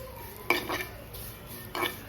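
Vermicelli roasting in a pan for sevaiyaan kheer, with a faint sizzle under a few clinks and scrapes of a utensil stirring against the pan.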